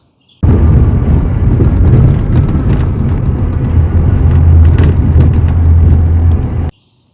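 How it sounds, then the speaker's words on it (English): A Ford Ranger truck rumbles steadily while driving, a loud continuous low drone of road and engine noise with faint rattling from loose doors mixed in throughout. "Every time I drive, my truck sounds like this."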